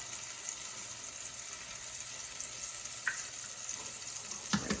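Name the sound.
eggs cracked into a pan of frying tomatoes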